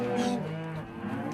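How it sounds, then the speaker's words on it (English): A single cow moos on a working Montana cattle ranch, a close, loud, drawn-out low call that bends in pitch and then trails off. "it's also a working cattle ranch that's been in the Nelson family since the 1860s"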